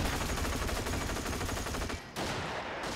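Rapid gunfire from armor-piercing rounds in the video game Far East War rattles in dense, continuous bursts, loud and close, with a brief gap near the end before it resumes.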